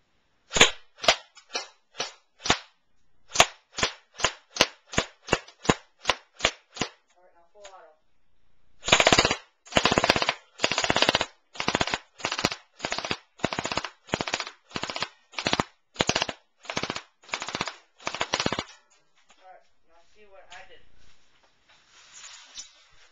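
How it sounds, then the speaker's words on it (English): A Cyma .035A airsoft gun fires BBs on semi-automatic in a rapid series of sharp, loud snapping shots. A quick run of evenly spaced single shots comes first, then after a brief pause a longer, heavier string follows, close and with no talk. "now I'm going to shoot semi-automatic"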